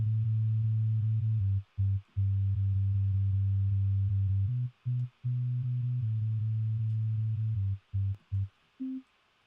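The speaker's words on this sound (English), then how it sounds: "Basic shapes, sine wave, nice." Steady low synthesizer sine-wave bass played from MIDI, pure sustained tones in a repeating pattern with short gaps between held notes, loud and clean with no voices.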